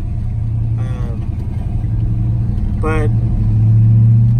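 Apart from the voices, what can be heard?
1985 Chevrolet C10 truck engine revving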